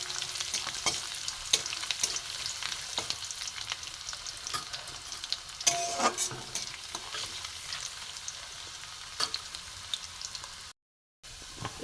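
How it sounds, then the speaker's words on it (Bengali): Chopped garlic fries in oil over low heat, giving a continuous close sizzle broken by frequent sharp spatula scrapes and clicks, with a brief dropout near the end. "রসুন কিছুটা একটু ভাজা হোক।"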